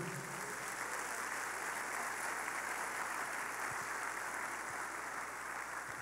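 A church congregation claps steadily together at a Sunday worship gathering, a dense, even wash of applause that is fairly quiet and continuous, with no voices standing out.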